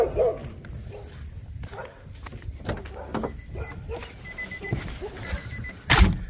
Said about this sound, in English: Get away from me so I don't get bit. These dogs do get aggressive.